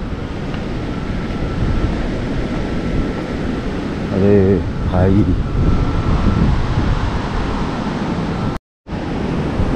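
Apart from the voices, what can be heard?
flooded Shivnath river rushing with strong waves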